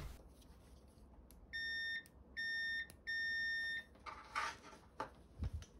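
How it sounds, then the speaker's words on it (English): A multimeter gives three sustained steady continuity beeps, each roughly half a second long, as its probes touch a wire during an HDMI cable check, followed by faint handling clatter. "My multimeter beeps when both probes are touching."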